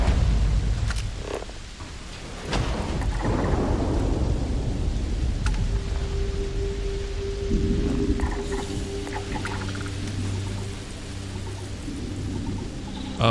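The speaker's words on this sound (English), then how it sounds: "so a corrosive liquid thunderstorm" A corrosive liquid thunderstorm rages in Starfield, with sharp cracks of thunder, a rolling rumble that fades, steady rain hiss and low mechanical tones underneath, loud and close throughout.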